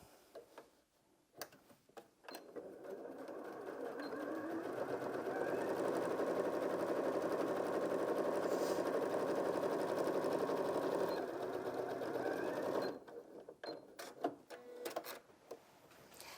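A Janome M100QDC sewing machine stitches through four layers of doubled fabric, a steady rapid mechanical ticking hum running for about ten seconds, starting and stopping with a few clicks, close and clear.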